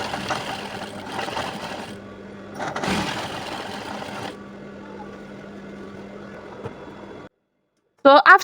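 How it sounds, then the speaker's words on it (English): A sewing machine stitches folded fabric for a braided headband with elastic, giving a steady motor whirr with a low hum for about seven seconds, then stopping, followed by a short bright burst at the end. "So let's go to our sewing machine, fold it, and then sew."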